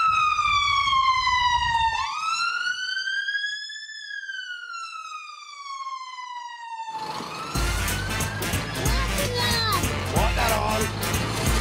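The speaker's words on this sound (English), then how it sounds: "Do you want to hear the siren now, Moosh?" A loud wailing siren sweeps up and down in long rising and falling tones, close and prominent, then gives way to a noisy jumble of clattering and rumbling sounds.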